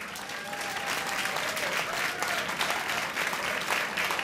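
A concert audience at an anniversary show for a band claps together in steady, dense applause. The clapping stays loud and even from start to finish, with a faint murmur from the crowd mixed in.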